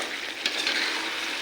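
Dried chillies, cumin and mustard paste hiss and crackle in hot oil, a steady close broadband sizzle with a brief stir around the middle.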